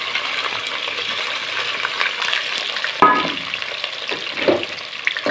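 Sliced onions fry in hot ghee for chicken daigi qorma, a constant close sizzle with a sharp metallic clink midway and stirring scrapes after, no talking.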